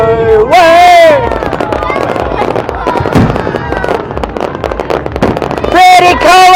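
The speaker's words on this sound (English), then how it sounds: "Fireworks!" Fireworks at a street show in Santa Clarita burst in a dense, loud, continuous volley of booms and crackles, with excited voices shouting over the start and end.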